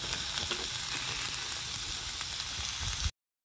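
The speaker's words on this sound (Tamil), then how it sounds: "நம்ம கடாயில் இஞ்சி பூண்டு வெங்காயத்தை நல்லா ஃப்ரை பண்ணிக்கலாம்" Ginger, garlic and onion fry in a kadai with a loud, continuous close sizzle and faint stirring, until the sound stops abruptly.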